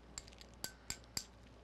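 Glass pieces clink together as they are handled, four light, sharp taps spaced apart in a quiet room.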